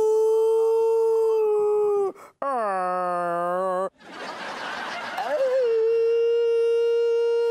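A man imitates a dog howling in pain with long, wavering vocal howls, a short sharp break, then a strained whimpering cry that trails off into a sustained howl.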